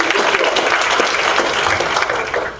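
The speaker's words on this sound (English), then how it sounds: "But let's give Shakita a round of applause." Audience members clap at a school district board meeting, a loud, dense round of applause that holds steady for a few seconds before starting to taper off.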